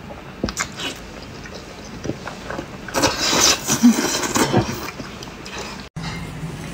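Crunchy, close-up bites and chewing at a mukbang meal of king crab, lobster, squid and pork, a few crisp cracks and munching sounds spread over several seconds, fairly loud and without talk.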